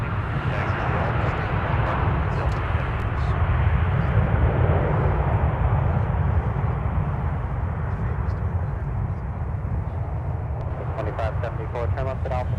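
A Boeing 717 airliner lands at MSP airport, its engines a steady, broad distant roar that swells slightly mid-clip, with faint radio chatter and brief clicks above it.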